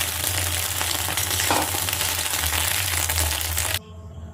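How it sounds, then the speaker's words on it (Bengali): An egg fries in hot oil in a wok for a chowmein dish, a loud, steady close-up sizzle with faint stirring scrapes, cutting off abruptly near the end. "ডিমের মধ্যে আমি আরো একটু অল্প তেল দিয়ে ডিমটাকে ভাজতে থাকবো।"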